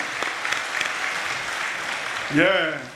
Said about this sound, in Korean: 뜨거운 박수로 맞아주시고 자리에 앉아주시기 바랍니다